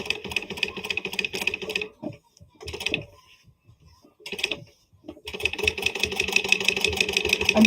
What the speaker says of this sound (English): I'm doing a smaller stitch length here, but it's just because I know it fits better around the curves that I've created.